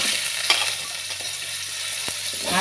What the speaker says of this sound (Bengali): এবার কেটে রাখা আলুগুলো আর ব্রোকলির ডাঁটাগুলো ভেজে নেব।